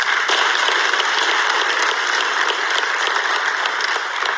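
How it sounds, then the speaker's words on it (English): Sustained audience applause fills a hall at a high-level African forum on South-South and triangular cooperation, steady dense clapping throughout with no voices over it. "it deserves a very big round of applause"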